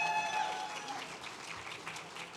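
Audience applause at an annual awards dinner, a steady patter of clapping from a crowd, fairly soft and continuous for a couple of seconds.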